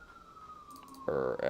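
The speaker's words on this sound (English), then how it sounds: "There's a siren." A faint, steady siren tone drones in the background, then a louder, harsher wail cuts in near the end.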